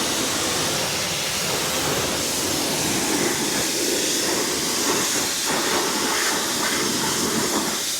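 A home pressure washer sprays water, a steady broadband hiss that runs unbroken at moderate level, with no talking over it.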